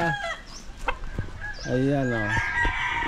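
A rooster crows loudly and close by on a backyard farm in Ibaan, Batangas, one long drawn-out call, with a few short clucks and background noise before it.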